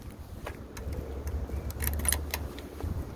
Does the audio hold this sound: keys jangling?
yes